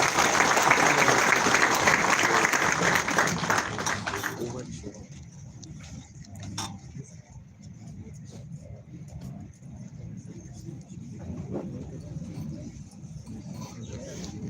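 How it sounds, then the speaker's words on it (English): Audience at a live-streamed event applauds a Vice Chancellor, a dense burst of clapping that fades after about four seconds into scattered claps and quiet room noise. "Another round of applause for our able host, the Vice Chancellor"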